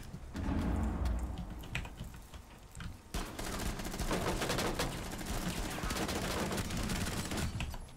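Rainbow Six Siege gunfire: rapid automatic bursts and fusillades crackle through the round, dense and close after a quieter opening, with faint talk underneath.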